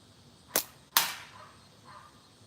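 Two sharp slingshot shots snap out about half a second apart, the second followed by a short ringing impact on a target, against quiet outdoor background.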